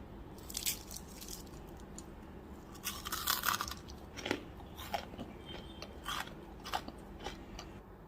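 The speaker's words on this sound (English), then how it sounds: "Now we can start munching on the crunchies." Someone munches crispy fried onion rings close up, giving irregular crunchy bites and chewing at a quiet level with no talking.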